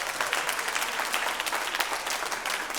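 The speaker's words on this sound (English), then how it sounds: "Clap if you're a parent." An audience claps for parents at a speaking event, a steady dense wash of applause filling the whole moment with no talk over it.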